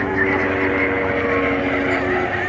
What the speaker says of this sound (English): Look at the helicopter's coming back.